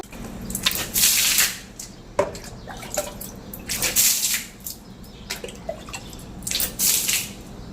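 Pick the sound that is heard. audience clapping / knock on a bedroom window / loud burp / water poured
water poured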